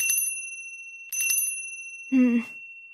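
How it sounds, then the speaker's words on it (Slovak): A small sleigh bell tinkles in two quick bursts with a steady high ringing tone throughout, then a short vocal sound near the end. "Ešte chvíľku, povedal mu Kováč a zas a znova skúšal zvuk zvončeka."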